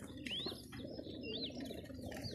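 Homing pigeons cooing in a loft: soft, repeated rising-and-falling coos over a constant low background rumble, moderately close, with no talking.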